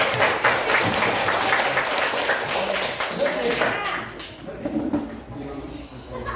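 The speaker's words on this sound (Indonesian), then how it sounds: "Tepuk tangan untuk diri." A class of students in an Indonesian history lesson claps for themselves, a dense patter of applause from a room full of pupils, with voices chattering over it as the clapping thins out.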